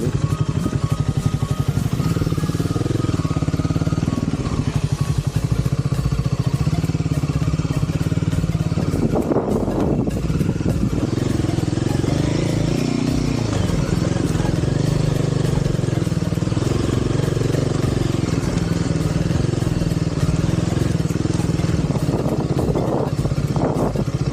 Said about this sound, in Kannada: ನಮ್ಮ ಗಾಡಿ ಸ್ಟಕ್ ಆಗಿಬಿಟ್ಟಿದೆ KTM.